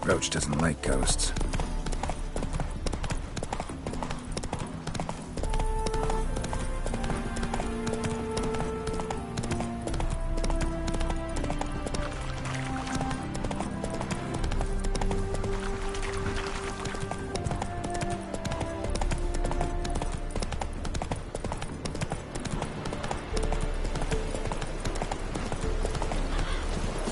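Horse hooves clip-clop steadily in The Witcher 3: Wild Hunt, a rhythmic trotting beat that runs throughout, mixed with game music and occasional character voices talking.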